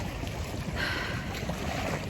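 A steady rush of wind and water with a boat's hum passing by near a shoreline in Doha, continuous and fairly loud with no voices.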